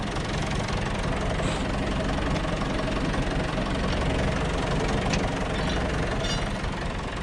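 A tractor engine idles steadily outdoors in snow, a continuous loud low rumble with a knocking, vibrating texture that holds evenly throughout with no talk.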